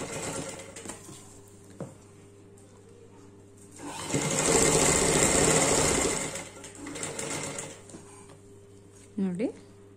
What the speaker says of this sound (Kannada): ಇದೆ ತರ ಫೋಲ್ಡ್ ಮಾಡ್ಬಿಟ್ಟು ಈಗ ನಾನು ಸ್ಟಿಚಿಂಗ್ ಕೊಡ್ತಾನೆ